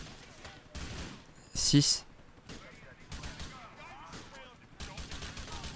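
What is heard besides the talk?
gunfire in GTA IV video game shooting police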